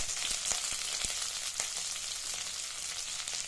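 Onions, ginger pieces and curry leaves sizzle steadily while frying in a pan, a continuous bright crackle with scattered sharp pops throughout, no voices over it.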